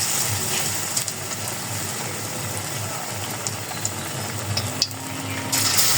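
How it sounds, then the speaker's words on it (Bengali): Oil sizzles steadily in a pan as stuffed potatoes fry, making a continuous close crackle with occasional faint clinks and no speech. "এইভাবে সবগুলো ভেজে নেব।"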